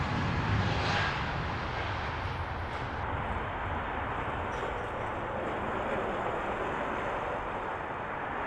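KLM Airbus A321 airliner at Heathrow Airport, a broad steady jet engine roar that holds at constant loudness throughout, with a faint high whine entering midway.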